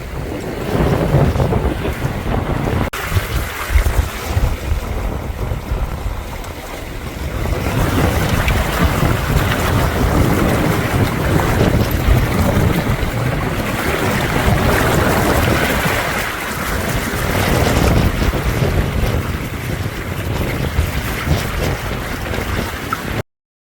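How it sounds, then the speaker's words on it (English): Strong wind of about 30 knots roars across a sailboat running downwind at sea under a strong wind warning, a continuous loud blustery rush with water and hull noise and no speech. "30 knots, strong wind warning. At least we're running with it, but oh boy, is it really blowing."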